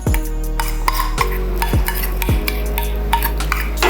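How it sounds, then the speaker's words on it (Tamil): Grated coconut dry-roasting and being stirred in a pan over a low flame, with steady scraping strokes and occasional sharp utensil knocks against the pan, close and fairly loud, no talking. "இப்போ லோ ஃப்ளேமில் இதில் இதுக்கு தேவையான தேங்காய் துருவல் போட்டு வறுக்கிறோம்."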